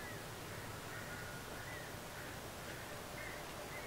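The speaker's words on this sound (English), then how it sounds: "Lots of birds." Birds caw in the video game Alan Wake, a series of faint repeated crow-like calls spaced through a steady hiss of forest ambience.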